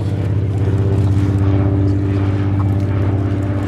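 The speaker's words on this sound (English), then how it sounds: "That is a beautiful aeroplane." A propeller aeroplane flying at the Sywell Airshow drones with a steady, pulsing engine hum, fairly loud and sustained throughout, with no voices.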